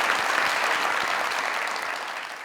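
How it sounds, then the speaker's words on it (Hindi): A studio audience at a comedy talk show claps in a dense, steady burst of applause that stays loud throughout and tapers only slightly toward the end. "तालियां बजाएं जरा राय साहब से।"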